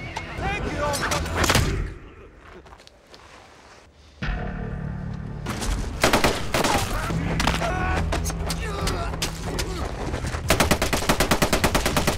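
Rapid bursts of automatic machine-gun fire crackle in dense, repeated volleys, pausing briefly before resuming loudly amid other dramatic noise in the film Sisu.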